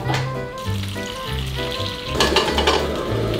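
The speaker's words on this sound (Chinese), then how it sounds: "先煎荷包蛋" Egg frying in a pan with a steady close sizzle, a light clink of utensils partway through, and a low hum running underneath.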